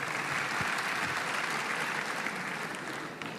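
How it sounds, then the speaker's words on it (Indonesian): An audience at a youth leadership talk in Indonesia bursts into sustained applause, a dense clatter of many hands that holds steady for about three seconds before gently tapering off, with no voices over it. "tepuk tangan sekali lagi"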